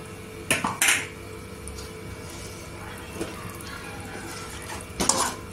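Rinse water from a mixer jar is poured into a mixed vegetable curry (bhogichi bhaji), with short bursts of splashing and metal clinks at the start and end and a low kitchen hum between.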